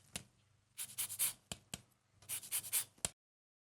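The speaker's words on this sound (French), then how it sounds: "Et on va mettre une petite râpée de citron vert." Lime zest being grated by hand for a prawn tartare, short rasping strokes in two quick bursts with a few taps, close and quiet with no talking.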